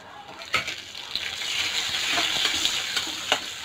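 Restaurant-style chicken 65 with curry leaves and Kashmiri chili powder sizzles in an oiled pan, a close, steady frying hiss broken by several sharp scrapes and clacks of a spatula stirring.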